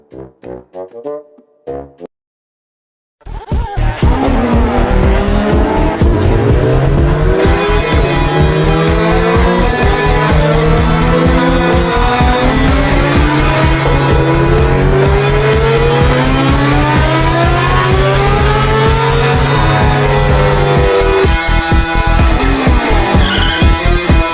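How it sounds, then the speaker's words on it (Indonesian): A motorbike race in the mobile game Sakura School Simulator: after a few brief quiet sounds, a loud engine roar takes over, with sustained revving and rising and falling pitch sweeps running continuously to the end. "gimana kalau kita balapan?"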